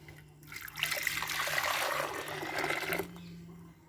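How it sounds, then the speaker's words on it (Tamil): Boiled milk being poured into a new clay pot while making payasam, a steady liquid splashing and gurgling that builds, holds for a couple of seconds, then stops, with a faint background hum. "இப்போ நம்ம காய்ச்சி வச்ச பாலை சேர்ப்போம்."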